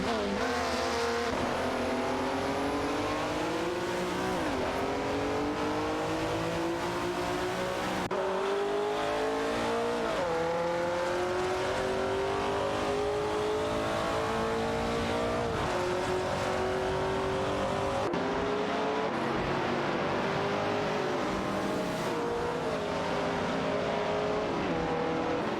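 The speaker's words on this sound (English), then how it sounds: "A thrilling battle is unfolding between the De Tomaso Pantera GTS 72 and the Ferrari 365 GTB for Daytona for the top spot" Two race cars, a 1972 De Tomaso Pantera GTS and a Ferrari 365 GTB Daytona, battle for the lead in an AI race, their engines loud and continuous, rising through the gears with repeated shift drops and faint tire squeal.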